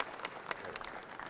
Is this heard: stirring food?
no